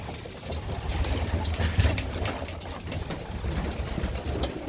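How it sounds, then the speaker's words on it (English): About fifty young pigeons and breeders flap their wings at once in a loft, a muffled fluttering rush of many wingbeats with soft bumps and occasional faint coos. "It's hectic when 50 birds start flapping their wings at the same time."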